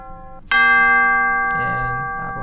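Bell sound effect from a hard trap beat kit: a sustained, ringing tone with a clear metallic shimmer. It strikes loudly once, following a softer preceding tone, and rings on, slowly fading, with no talk.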